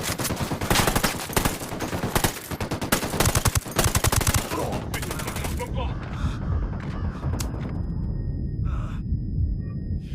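Rapid, loud bursts of automatic gunfire and repeated shots in the tactical shooter Ghost Recon Wildlands dominate the first half, then give way to a low rumbling game ambience with a few sparse, fainter sounds.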